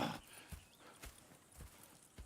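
Horses clip-clopping in Red Dead Redemption 2, faint, evenly spaced hoof thuds at a slow walking pace with a brief whinny near the start.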